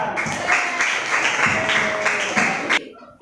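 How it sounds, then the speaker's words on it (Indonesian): Classroom applause after a student answers, with a brisk patter of hand claps under some talking, steady for about three seconds before cutting off abruptly. "Kasih tepuk tangan."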